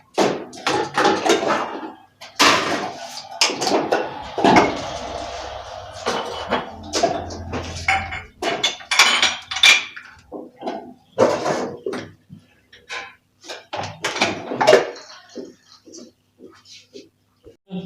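Kitchen utensils and dishes being set out in a home kitchen, with many irregular clinks, taps and clattering knocks of varying loudness, close by.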